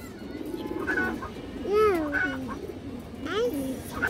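Pigeons at a loft of khaki high-flyer birds give a few soft, rolling coos at close range, spaced across the moment, with faint voices in the background.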